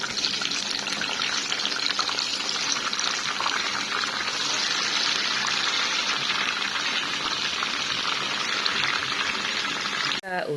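Tempeh frying in hot oil in a home kitchen, giving a loud, steady broadband sizzle that runs almost unbroken for about ten seconds before cutting off abruptly at the end.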